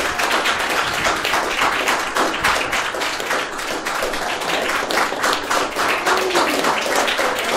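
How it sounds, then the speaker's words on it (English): An audience at a panel discussion with a composer applauds the event hosts, a loud, sustained burst of many hands clapping close and continuous. "give them a round of applause"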